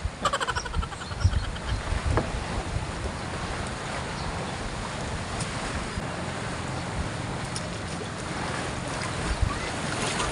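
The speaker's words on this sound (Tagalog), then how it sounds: "Yan, dito na tayo sa bangka." Fishing boat out on the open sea, with a constant wash of waves and wind, occasional knocks and thumps, moderately loud and steady throughout.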